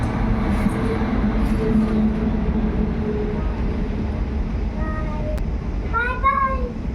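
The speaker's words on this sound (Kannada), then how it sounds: "ಈಗ ನಮ್ಮೂರಲ್ಲಿ ಟ್ರೈನ್ ಬರೋ ಟೈಮ್ ಆಯ್ತು." A train rumbles past a village with a steady low roar throughout, a few high squeals or horn-like tones near the end, and faint voices mixed underneath.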